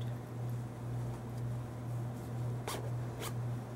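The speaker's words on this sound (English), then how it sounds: "See, it zips up" A zipper on the back of a stretchy, turtleneck-style cheer uniform top is pulled up in two short, quick rasps near the end, over a quiet, steady low hum.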